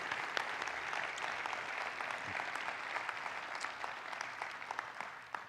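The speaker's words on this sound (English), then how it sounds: "So I want to just give these guys a huge round of applause." Audience at a conference applauding, a soft, steady spread of many hands clapping at some distance, continuous throughout with no one speaking.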